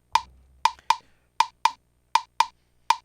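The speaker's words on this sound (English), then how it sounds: "then half a bar of Swiss Army, and half a bar of flam taps. The whole thing sounds like this." Snare drum rudiment practice alternating flam taps and Swiss Army triplets, played as eight crisp, evenly spaced hits over about three seconds, each sharp attack ringing briefly before the next, heard alone with no talking.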